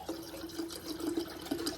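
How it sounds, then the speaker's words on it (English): Water pours into a container while detox water is being made, a faint, short trickle with a splashy fill sound and a few small drips. "So start adding our water here."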